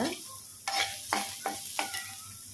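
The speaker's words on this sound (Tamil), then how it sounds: "நல்லா வதக்கிக்கோங்க. நல்லா பொன்னிறமாக வரணும்." Semiya biryani ingredients sauté in a hot pan over a soft sizzle, with four distinct scraping stirs of a spoon at fairly even intervals, close and fairly quiet.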